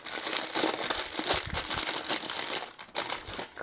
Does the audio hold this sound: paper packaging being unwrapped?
yes